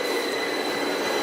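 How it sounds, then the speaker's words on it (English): A London Underground Victoria line train arriving at a station, a loud, continuous rumble with a sustained high wheel squeal, close by and with no voices. "A train just arrived, so this is what it looks like."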